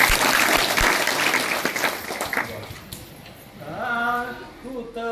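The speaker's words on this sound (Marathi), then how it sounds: "एकदा टाळ्या वाजवून" An audience at a religious discourse in Shri Kshetra Chardari claps loudly for a few seconds, then the applause fades and a voice starts speaking.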